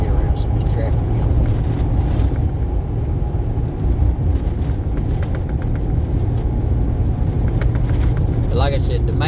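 A car drives through traffic with a steady, loud low road-and-engine rumble from inside the cabin that carries on unbroken throughout.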